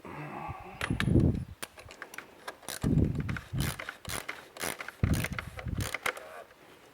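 A wrench tightens a bolt during an oil change on a 2009-2014 Volkswagen Jetta TDI diesel, making a series of close, uneven metallic ratcheting clicks in short bursts with brief pauses between them.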